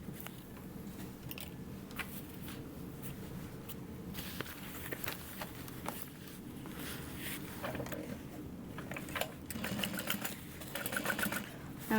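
A sewing machine runs in a steady, fairly quiet hum while stitching along the sides of a pocket on a Minerva tote bag, with faint handling clicks over it.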